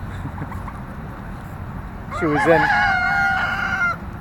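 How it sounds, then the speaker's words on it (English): A little white chicken living among turkeys gives a burst of clucks and crowing calls, close and clear over quieter background bird sounds. "our honorary turkey, which is a little white chicken named Tiny"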